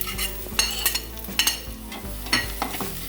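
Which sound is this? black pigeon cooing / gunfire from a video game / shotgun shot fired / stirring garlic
stirring garlic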